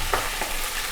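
Ginger fries in hot ghee with cardamom, a brief, close, steady sizzle with a light stir or two and no voices.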